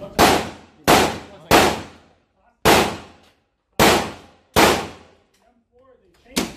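Seven loud gunshots at an indoor gun range, sharp cracks spaced about a second apart, each with a ringing decay, and faint voices between them.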